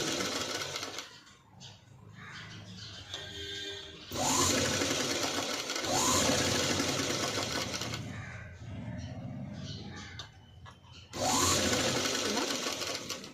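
A sewing machine stitches piping onto a padded blouse in several close, rapid whirring bursts of a couple of seconds each, with quieter gaps and some talking between them.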